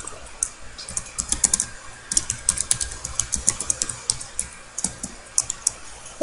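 Steady, rapid clicking of a computer keyboard as a title is typed into a Joomla website editor, close and crisp with no talking.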